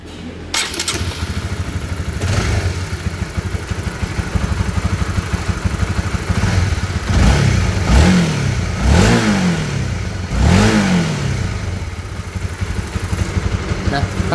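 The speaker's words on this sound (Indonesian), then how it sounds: "kita akan coba nyalakan dulu" A Honda motorcycle engine, a CB150R-type 150cc single with a knocking fault, starts up and idles steadily, then revs in several rising bursts, close and loud, with someone talking over it.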